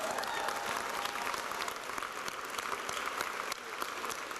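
A community college commencement audience applauds steadily for over four seconds, dense crowd clapping filling the hall at a fairly even level, with a slight dip near the end.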